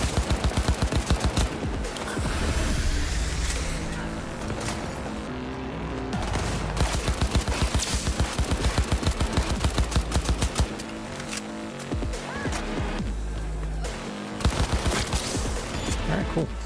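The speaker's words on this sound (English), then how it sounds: "I'm gonna switch to my assault rifle and put some rounds in y'all" Assault rifle fire in Cyberpunk 2077, long rapid automatic bursts rattling loud and close with short pauses between volleys, a voice speaking beneath.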